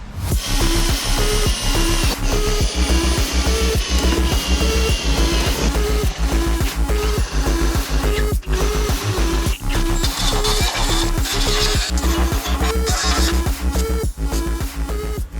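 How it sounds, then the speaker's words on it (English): Holes being punched in a Yamaha Passola scooter body, a loud, close, continuous power-tool drone with a regular pulsing rhythm and repeated sharp mechanical clicks. "I've got my holes marked. I'm going to punch the holes in."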